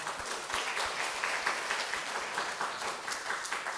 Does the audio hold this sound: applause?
yes